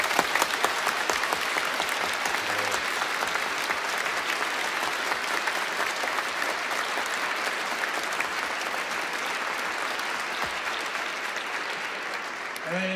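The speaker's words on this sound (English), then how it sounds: "Please applause." Sustained audience applause fills a university hall during an honorary doctorate ceremony, a dense, steady wash of many hands clapping at even loudness for the whole stretch.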